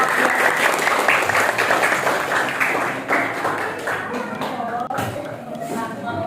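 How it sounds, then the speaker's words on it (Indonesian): Classroom audience applauding a student group after their presentation in a mathematics teaching assessment: dense, sustained clapping that fades toward the end, with some talk and shuffling mixed in. "Silakan beri tepuk tangan untuk kelompok."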